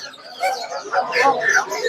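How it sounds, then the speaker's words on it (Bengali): Roosters and hens at a busy weekly poultry market give short chirps and clucks close by, mixed with people talking. "মোরগ মুরগি মিলানো আছে।"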